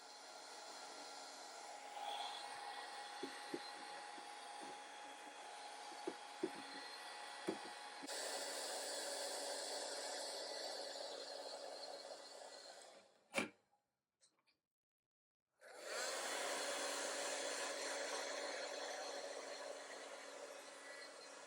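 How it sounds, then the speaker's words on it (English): A handheld vacuum sucks dust from the crevices of a Brother embroidery machine, running as a steady whooshing whine with a few small ticks and knocks, cutting out briefly before starting again. "using my handheld vacuum to get all that extra dust out of the dark crevices of this machine"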